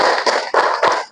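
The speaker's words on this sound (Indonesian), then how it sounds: "Tepuk tangan 1, tepuk 2, tepuk 3, tepuk 4," Group hand clapping in a classroom lesson, three quick, evenly spaced bursts of claps close by with a brief sharp tap at the end, no talking over it.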